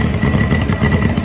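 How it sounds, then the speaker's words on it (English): A turbocharged Suzuki Hayabusa drag bike's engine roars loud and close in a short, dense burst of throbbing mechanical noise. "Turbocharged Hayabusa."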